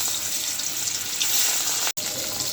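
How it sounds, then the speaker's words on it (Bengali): Spiced fish fries in hot oil with a steady, close sizzle and crackle that runs without pause, broken only by one instant of silence. "মাছটা ভালো করে ভেজে নেই।"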